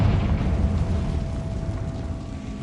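A Confringo fire spell explodes in a wizard video game: a heavy, rumbling blast that stays loud and slowly fades over a couple of seconds.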